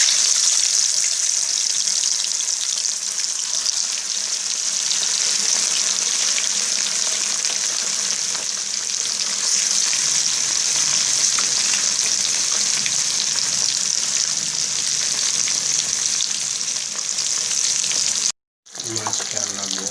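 Pieces of fish fry in hot oil, giving a loud, close, continuous sizzling hiss that holds steady for nearly twenty seconds, with a brief cut near the end and no talking.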